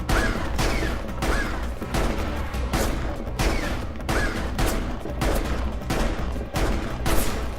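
Gunfire in Final Fantasy XV: Episode Prompto, rapid repeated bursts of loud shots in a steady rhythm over a dense rumbling battle bed, close and continuous.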